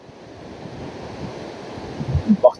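Atlantic Ocean surf near the Hassan II Mosque in Casablanca rolls in as a steady broad wash with wind buffeting the microphone, building to a few louder low rumbles at the end.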